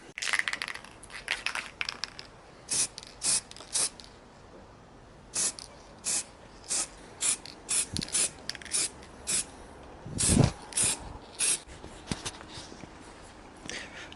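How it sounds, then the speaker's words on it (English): Repeated short hissing bursts from an aerosol spray can painting a Honda Custom Cub part gold, each lasting under a second, with brief pauses between them, close by and fairly loud. "I'm going to spray paint this one"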